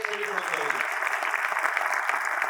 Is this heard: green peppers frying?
no